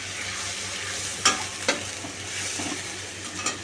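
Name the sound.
stirring poppy seed, cashew and yogurt paste into frying fish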